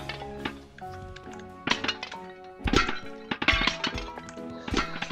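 Priceless artwork smashed in the video game Wobbly Life, a run of hard thunks and glassy clinks that come in irregular bursts over a faint musical background.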